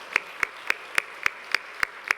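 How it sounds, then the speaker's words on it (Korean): A single person claps steadily at a regular pace, about eight crisp claps spaced evenly, close and clear against a quiet church service room, welcoming a newcomer to worship. "우리 박수로 환영하고 축복하도록 하겠습니다"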